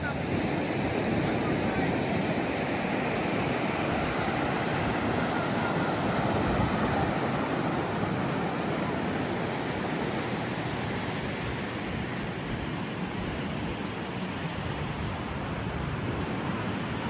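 Ocean surf rolls onto sand at Topsail Beach, a constant, loud wash of breaking waves mixed with wind buffeting the microphone, steady and unbroken throughout with no clear talk.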